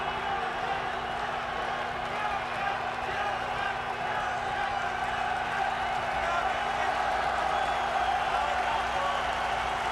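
A boxing crowd at Muhammad Ali's heavyweight fight against Jurgen Blin cheers for Blin with a steady, diffuse roar from a large arena, sustained at an even level with a constant low hum underneath.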